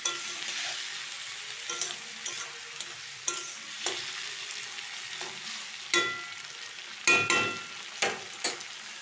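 Onions frying in a pan, with a little salt, for a simple home-style chicken curry, give a steady sizzle broken by sharp scrapes and clinks of stirring, close and with no talking.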